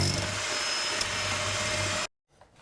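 An SDS drill bores a hole into a wall with a loud, steady, continuous grinding whir that cuts off abruptly near the end, leaving near silence.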